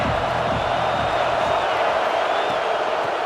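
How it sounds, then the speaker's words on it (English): Dense, steady roar of a college football stadium crowd during a Ducks vs Huskies game, a loud wash of cheering and shouting sustained throughout without a break. "This crowd bringing an ear-splitting welcome to their visitors."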